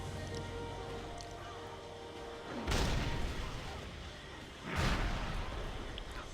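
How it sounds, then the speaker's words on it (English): Two deep booming cannon blasts in World of Warcraft land a couple of seconds apart, each a sudden broad burst that rolls off, over a steady game soundscape. "That cannon does some huge damage."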